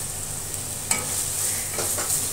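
Vermicelli roasting in hot oil while being stirred for upma, a steady close sizzle with a few sharp scraping strokes of the utensil against the pan and no voices.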